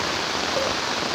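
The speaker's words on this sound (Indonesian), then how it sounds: "Ini deras sekali hujan." Fast-flowing floodwater rushes under heavy rain in eastern Cirebon, a constant broad wash of water noise, close and unbroken, with no voices.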